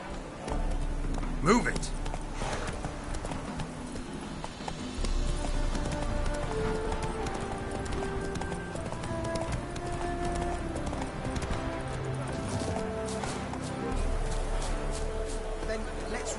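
Roach, a horse in The Witcher 3: Wild Hunt, trots with a steady, rhythmic clip-clop of hooves that runs throughout, with occasional whinnies, under spoken dialogue and background music.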